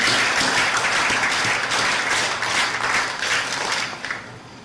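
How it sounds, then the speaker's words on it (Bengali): An audience at a Cub Carnival opening ceremony claps for Bangladeshi scouts, with dense sustained applause from many hands that fades gradually over several seconds. "সবাই মিলে আমরা একটা হাততালি দিই তাদের জন্য।"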